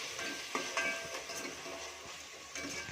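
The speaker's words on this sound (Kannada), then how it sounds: "ಇದು ಈರುಳ್ಳಿ ಟೊಮೊಟೊ ಸ್ವಲ್ಪ ಫ್ರೈ ಆಗಬೇಕು." Onion and tomato frying in a pan for methi pulav, with a close, continuous sizzle broken by a few soft stirring clatters and scrapes, no speech over it.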